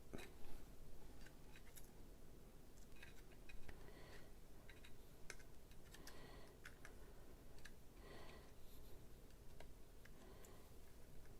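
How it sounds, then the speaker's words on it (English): Scissors snip through paper in a series of quiet, sharp clicks and short cuts, irregularly spaced, in a quiet room. "you can take your scissors and just line this up"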